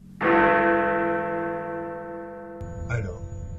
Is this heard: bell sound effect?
yes